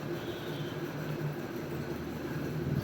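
A train pulls out of a station on a line in the Bardhaman area, making a brief, steady low rumble at moderate loudness with no voices.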